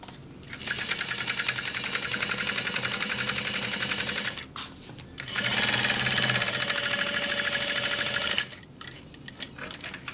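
A sewing machine stitches a large bag in two long, steady runs of rapid needle chatter, close and loud, separated by a short pause.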